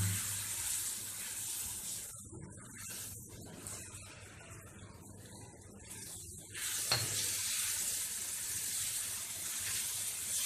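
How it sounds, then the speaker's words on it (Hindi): Milk poured a little at a time into roasted semolina in a hot pan for suji halwa: a loud hissing sizzle that flares, dies back, then bursts up again as more milk goes in. "अब हम इसमें थोड़ा थोड़ा करके दूध डालेंगे"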